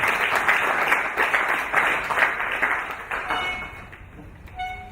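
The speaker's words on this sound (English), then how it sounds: "Please, let's give Mr. Kalema Ivan a larger clap." An audience at a netball association annual general meeting claps for a speaker, a dense, steady round that thins and fades toward the end, followed by a few scattered claps.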